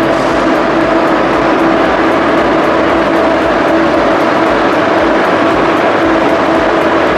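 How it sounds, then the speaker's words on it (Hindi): A metro train pulls into KL Sentral station in Kuala Lumpur with a steady, loud rumble and a sustained mechanical hum that holds throughout, and no voices. "और ट्रेन आ चुकी है दूसरी"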